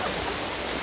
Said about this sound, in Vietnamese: hiện tại là trời đang mưa rất là to luôn